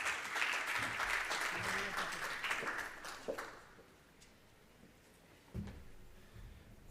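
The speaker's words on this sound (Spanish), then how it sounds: "Así que lo recibimos con un fuerte aplauso" An audience applauds a speaker being introduced at a presentation, a dense burst of clapping for about three seconds that fades to scattered claps and room quiet.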